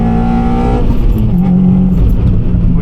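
Engine of a Honda Civic Type R EP3 pulling hard under acceleration from inside the car, a loud steady drone with the pitch dropping briefly as a gear changes, then climbing again.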